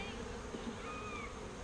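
Honey bees buzzing inside an open hive during an inspection, a steady, dense hum of many bees, fairly quiet and continuous.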